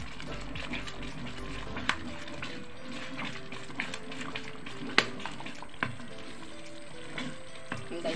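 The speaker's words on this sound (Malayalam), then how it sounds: "ആ പരുവം വരെ നമ്മൾ ഇളക്കണം." Thick herbal mukkutti lehyam paste is stirred in a hot pan, giving a steady low sizzle and bubbling. Occasional sharp clicks and scrapes come from the spoon against the pan.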